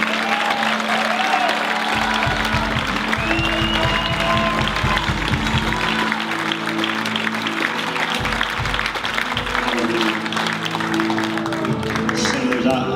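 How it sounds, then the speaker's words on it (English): A worship center congregation claps in praise, sustained applause and rhythmic clapping under loud organ or keyboard chords and voices, filling the room throughout. "Can anybody just give a hand clap of praise?"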